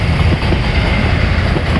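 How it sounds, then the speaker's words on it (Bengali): A train rumbles loudly close alongside, a heavy continuous roar with low wheel clatter, steady throughout and without any voices. "আরেকটা ট্রেন আইতেছে পাশে"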